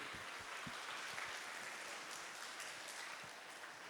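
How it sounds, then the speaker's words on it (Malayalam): An audience at a school event at Silver Hills Higher Secondary claps together in a dense, even wash of applause that holds steady for several seconds, heard from a distance and fairly quietly. "അതുകൊണ്ട് നല്ലൊരു വലിയ കൈയടി നമുക്ക് തന്നെ വേണ്ടിയിട്ട്."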